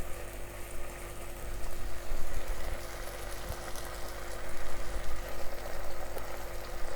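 Three spoons of cream start heating in a pan as the base of a cream sauce for a chicken burger, giving a steady bubbling simmer with a low rumbling background, continuous and fairly close, without talk.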